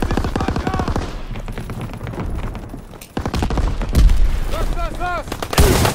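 Dense video game gunfire on a battlefield, rapid automatic bursts and heavy thumping blasts layered with shouted in-game voice lines, loud and continuous.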